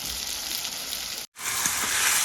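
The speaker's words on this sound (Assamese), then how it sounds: "অলপ সময় ভাজি লওঁ" Mutton pieces sizzle and fry in a pan, seasoned with salt, in a home kitchen, a steady close hiss that drops out briefly midway and then resumes just as strong.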